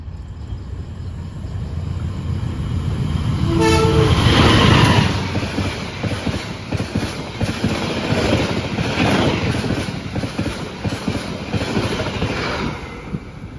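A train horn blares briefly, then the Pandalungan passenger train KA3233 from Jakarta Gambir rumbles loudly past at speed, its roar holding steady for several seconds.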